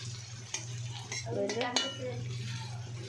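Chopped onions and bay leaf hit hot oil in a pan where potatoes were just fried, raising a steady sizzle under scraping and clattering of a spoon against the pot, with a voice talking nearby.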